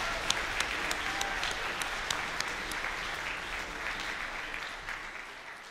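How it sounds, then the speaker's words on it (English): Audience applause after a high school band's wind symphony performance, a steady sustained wash of many hands clapping in a concert hall that gradually eases off. "How about another round of applause for Colgan?"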